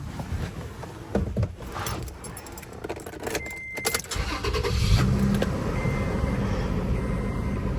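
A Toyota Tacoma truck, worn and in need of an oil change, starts and runs nearby, its engine idling steadily over keys jangling and small handling sounds, with no talk.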